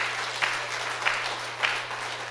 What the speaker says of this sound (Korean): 영광의 박수로 하나님 앞에 박수 올려드리겠습니다.